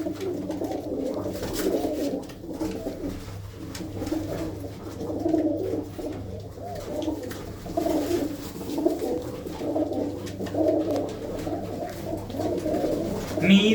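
Many pigeons coo continuously nearby in a village in Mansa district, Punjab, a steady overlapping murmur with a faint low hum underneath.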